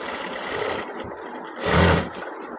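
A sewing machine runs short top-stitching on a child's collar. Its motor whirs close by in two brief runs, and the second run is louder and stronger.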